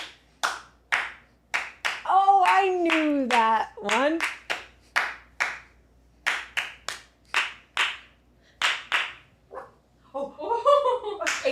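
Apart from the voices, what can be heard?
hand clapping rhythm challenge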